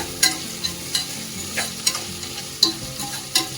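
Sliced onions for vegetable biryani sizzle and fry in a pan, with repeated sharp scraping stirs every half second or so over a steady close crackle, with no voices.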